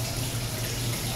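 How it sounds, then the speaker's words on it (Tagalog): Tap water runs steadily and close while a large milkfish is washed, a continuous rushing splash with no talk. "Oh. Hugasan muna natin."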